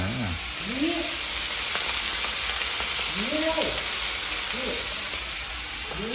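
Spicy field rat meat stir-fried in a pan with holy basil, giving a steady close sizzle and frying hiss with scraping stirs throughout, while voices murmur in the background.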